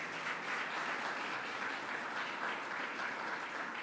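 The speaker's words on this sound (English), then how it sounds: "Let's give our county executive a great round of applause." At a government announcement, an audience gives a steady round of applause for the county executive, an even, moderately distant wash of clapping that holds without pause.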